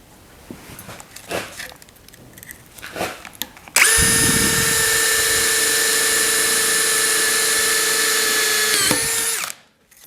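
A freshly sharpened drill bit bores steel on a 1959 REO Gold Comet car hauler truck grille, a loud, steady high whine holding for about five seconds after a few scrapes and clicks, then spinning down.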